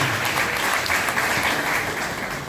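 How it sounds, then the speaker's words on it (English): Audience at an emergency medical services launch event applauds a presentation, with a steady, moderately loud round of clapping lasting throughout. "I didn't hear a round of applause for him."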